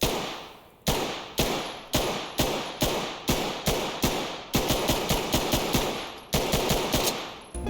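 FN Five-seven pistol fired in the tactical shooter Ready or Not: loud, sharp, close shots, single rounds at first, then quicker runs of rapid fire, each crack echoing briefly, with no talking.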